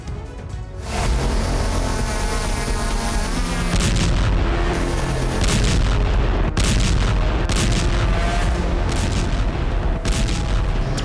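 Guided bomb strikes in Kursk during the Russia–Ukraine war set off a rapid series of heavy booms and blasts over a continuous rumbling roar, loud and sustained for about ten seconds after a brief quieter start.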